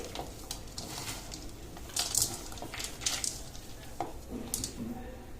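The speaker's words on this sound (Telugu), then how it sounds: "ఆ తర్వాత దీనంతా మనం ఇప్పుడు కలుపుకొని పెట్టుకోవాలి." Cardamom powder and fried dry fruits being stirred into a date mixture for date roll barfi: soft, irregular scraping and light clinks of a spoon in a pan, fairly quiet and close, with no voices.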